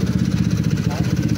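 A 196cc balance crank square engine running with a fast, throaty, pulsing chug right after being started, close and loud, with no voices.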